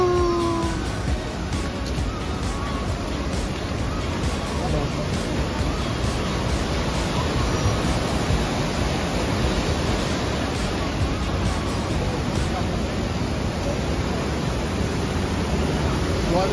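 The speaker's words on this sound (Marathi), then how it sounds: "अजून वरती धबधबा आहे." A waterfall higher up, beside the coast in Sindhudurg, Konkan, gives a steady, even rush of broadband water noise that fills the whole stretch without a break.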